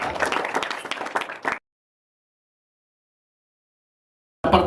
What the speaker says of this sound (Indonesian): Bisa kasih tepuk tangan dulu dong?